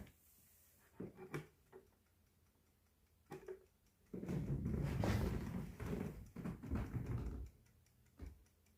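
A 1949/50 Junghans gallery wall clock, its case door opening upward, gives a few sharp ticks and clicks close by, followed by a longer stretch of louder handling and rattling of the case.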